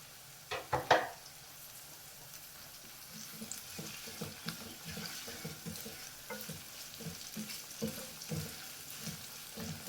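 Onions and aromatics for homemade fish pickle frying in a pan, a constant sizzle under repeated scraping stirs of a spatula, with a few louder knocks against the pan at the start.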